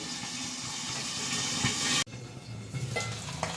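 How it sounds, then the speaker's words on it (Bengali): Foli fish sizzling in hot oil after being flipped to fry the other side, a steady broadband hiss that cuts out abruptly midway and resumes more softly with scattered crackles. "এইভাবে আর একটা পাশ ভাজা হয়ে গেলে আমি আমার বাকি মাছটাও ভেজে নেব।"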